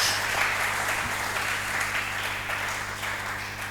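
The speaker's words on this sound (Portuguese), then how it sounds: "Aplauda fortemente ao Senhor Jesus." A church congregation claps loudly and steadily, a dense wash of applause filling the room for several seconds without a break.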